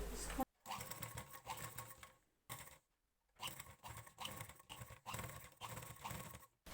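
A sewing machine stitches lace onto a blouse in short, close bursts of rapid whirring, separated by brief silent pauses.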